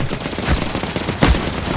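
Gunfire in The Cycle Frontier shooter game: two sharp shots about 0.8 seconds apart, standing out over a steady bed of game ambience.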